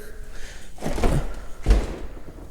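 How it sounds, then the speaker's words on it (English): A refrigerator door in a home kitchen in Las Vegas knocks against the cabinet beside it, giving two dull, close thuds about half a second apart. "This refrigerator, this door is hitting right here."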